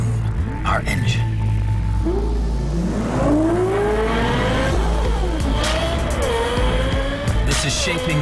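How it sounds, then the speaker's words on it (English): A Lexus supercar engine, acoustically tuned with Yamaha Music, revs loudly. Its note sweeps up and down in repeated climbing surges with a whirring edge and some tire noise. "We enhanced the driver's sensation of speed in the Lexus supercar by partnering with the craftsmen at Yamaha Music to acoustically tune our engine."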